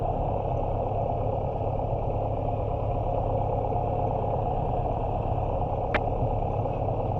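Piper Cherokee aircraft engine running steadily before takeoff at an airport, a loud continuous droning hum held throughout with one brief high click near the end.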